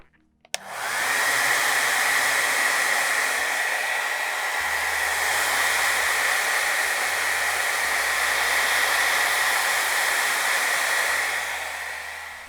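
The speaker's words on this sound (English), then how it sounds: "So let me get a hairdryer and dry these off." Hair dryer blowing on painted shelf fungus to dry a paint layer, switched on with a click and then a loud, steady close-up roar of air that runs without a break.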